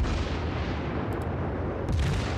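Naval gunfire from the battleship Fuso in World of Warships, a dense continuous rumble of heavy guns and booms with a few sharper reports, loud and sustained throughout.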